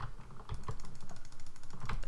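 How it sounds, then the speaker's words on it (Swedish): Rapid clicking on a computer keyboard during a game, close and crisp, with keystrokes coming in a fast, fairly even run that speeds up toward the end. "Jag hörde dina klickljud."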